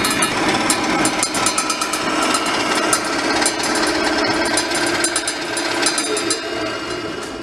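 A General Electric workshop grinder running steadily, a loud continuous mechanical whir with a rough, rattling buzz that holds level throughout, close by and with no talk over it.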